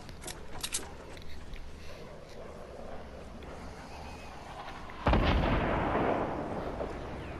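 Guided missile explosions in a Fortnite solo battle royale match: a few faint distant pops early on, then one sudden heavy blast that booms loudly and rolls off into a decaying rumble.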